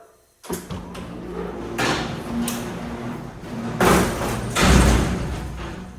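A door slams shut several times to stand in for fireworks at a Fourth of July celebration for America's 250th birthday, giving heavy close thuds and bangs with rattling reverberation between hits.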